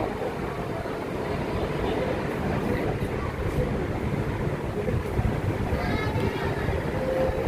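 A Bangkok BTS Gold Line elevated metro train rumbles steadily into a station, a continuous low roar with rising and falling tones, heard at moderate distance.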